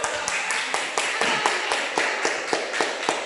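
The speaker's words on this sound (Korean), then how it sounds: "반주자 박수로 모시겠습니다" A small group at a church service for children claps in a quick, even rhythm to welcome the accompanist, the sharp, regular claps close and loud with no talk over them.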